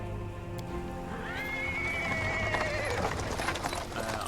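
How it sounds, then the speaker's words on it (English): A horse-drawn cart rolls across paving stones in the Pathfinder video game, with hooves clip-clopping and a horse whinnying over a steady rainy ambience. "He's interrupted by the sound of the wheels rolling on the paving stones."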